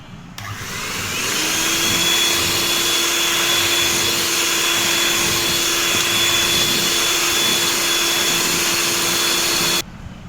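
An electric mixer whips sugar into a foam for a chocolate overload cake, giving a loud, steady motor whine that starts abruptly, holds an even pitch for about nine seconds, then cuts off.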